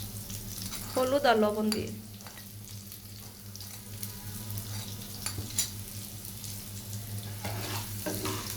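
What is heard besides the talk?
potatoes frying in oil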